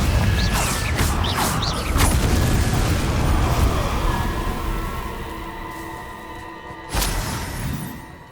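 Spell blasts in Hogwarts Legacy, a series of booming game explosions and impacts with a sharp loud burst near the end, layered over mechanical creaks and crackling debris.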